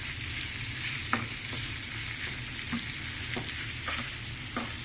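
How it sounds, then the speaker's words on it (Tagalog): Sautéing onion and tomato in a pan, with shrimp to follow, makes a constant hiss and sizzle broken by regular light clicks and scrapes of a spatula stirring. "Gisa lang natin siya sa sibuyas, kamatis."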